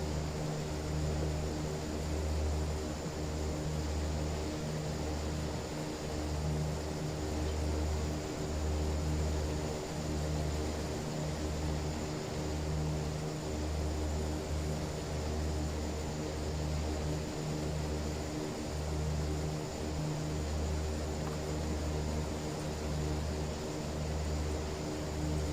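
A propeller aircraft drones steadily while approaching to land in a Prepar3D v5 flight simulator, its engine a loud, continuous hum with a rhythmic pulsing throb that persists unchanged for the whole stretch.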